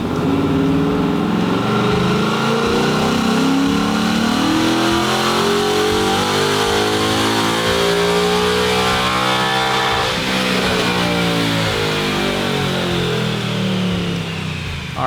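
Ford Mustang from 2018 or later, running E85 with stock exhaust, revving hard on a chassis dyno. The engine climbs steadily in pitch through a long, loud, continuous pull with no talk.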